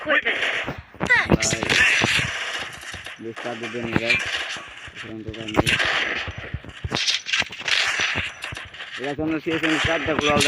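Gunfire in the video game Counter-Strike, rapid bursts of shots and clattering effects in quick succession throughout, heard beneath someone talking almost continuously.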